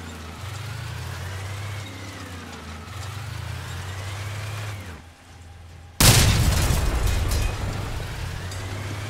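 Cannon blasts from Mammoth and Tsunami guns in the Crossout vehicle combat game: a rumbling engine drone gives way to one sudden, loud explosion with a broad crackling tail.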